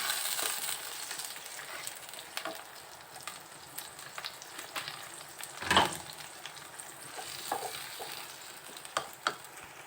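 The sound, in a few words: stirring spice masala for chicken kosha in a frying pan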